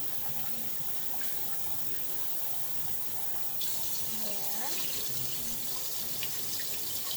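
Tap water runs steadily into a sink while something is rinsed under it, a constant hissing splash that brightens partway through as the flow changes, with a brief word spoken over it.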